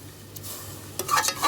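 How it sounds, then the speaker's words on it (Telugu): Milk cooking in a pan with a soft simmering hiss and brief stirring or scraping sounds, close and short, without talk. "దీంట్లో పాలు పోసి ఉడికించుకుందాం."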